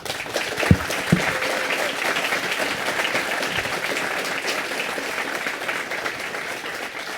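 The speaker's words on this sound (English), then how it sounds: "Huge round of applause for Nick." Audience applause after a talk on concrete poems, a steady, dense clapping that fills the room from start to finish at moderate level, with a couple of louder claps early on and no talk over it.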